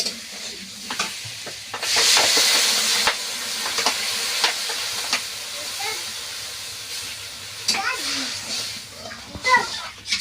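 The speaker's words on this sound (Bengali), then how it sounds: "তরকারিটা কষাই হয়ে গিয়েছে এবার জল ঢেলে দিচ্ছি" Water poured into hot Bengali curry bursts into a loud hiss and steamy sizzle that then settles into bubbling and stirring clatter, with someone talking over it.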